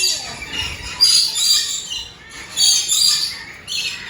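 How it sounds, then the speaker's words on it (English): Many birds kept in an enclosure at a pig farm in Chiayi, Taiwan squawk and chirp. The shrill calls come in loud overlapping bursts, with short lulls between them. "So many birds inside there."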